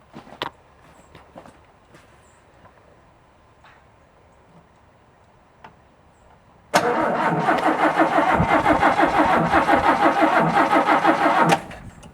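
A 1967 Chevy C10 pickup, parked for 23 years and suspected of an ignition fault, cranks loudly and steadily for about five seconds without catching, after a few quiet clicks and shuffling sounds.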